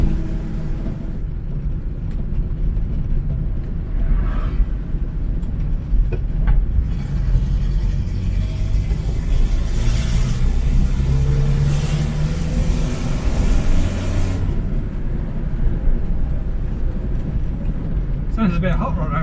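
A 1950s Standard 10 classic car with a damaged exhaust drones steadily while driving, its low rumbling engine note rising and falling under road noise, with a person talking over it.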